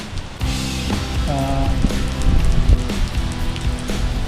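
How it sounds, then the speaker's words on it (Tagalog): Steady rain falls around a small fishing hole at Rice Lake, a continuous hiss of drops on surfaces with faint background sounds and no talk. "kahit na medyo umuulan"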